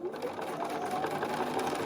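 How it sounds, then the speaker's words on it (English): Sewing machine stitching fabric for half square triangles, a steady rapid mechanical whir at close range throughout. "I'm going to go ahead and sew."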